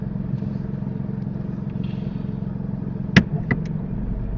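A car creeps slowly backward during a parallel parking lesson, its engine a steady low idle hum throughout, with a couple of brief clunks near the end.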